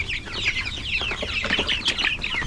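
Rhode Island Red chickens cluck continuously nearby in a backyard, several birds overlapping in busy, chattering calls with no voices.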